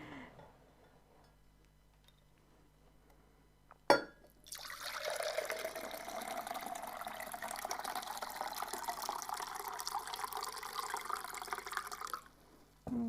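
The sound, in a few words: liquid being poured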